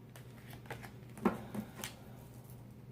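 Tarot cards being shuffled by hand during a reading, giving soft papery riffles and brief flutters in short bursts over a low steady background hum, fairly close and quiet.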